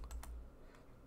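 A computer keyboard tapped in a few quick, separate keystrokes while entering an AWS access key at a command-line prompt, close and fairly quiet with no voice.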